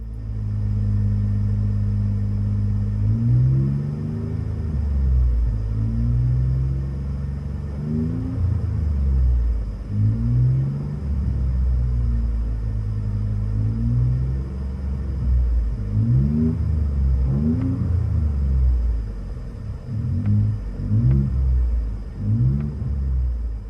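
Inside the cabin of a 2018 Ford F-150 EcoBoost with a Street Max split dual exhaust, a mild, low engine drone rises and falls through a series of revs and accelerations. It stays steady and fairly subdued, with no talking.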